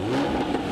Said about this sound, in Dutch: Nee, wij gaan met onze auto erachteraan rijden